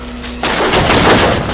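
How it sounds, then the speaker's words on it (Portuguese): A loud gunshot from the Until Dawn video game on PS4 bursts in sharply, followed by a broad, rumbling, echoing blast that fills the rest of the clip with no speech. "Chris, podes pegar na arma que está à tua frente e dar um tiro na Ashley."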